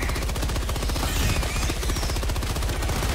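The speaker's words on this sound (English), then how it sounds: "Don't let him get to you because the MG sentry is gonna open up." An MG sentry machine gun in Helldivers 2 fires in a rapid continuous stream of loud, evenly spaced shots, close and unbroken, with battle noise mixed underneath.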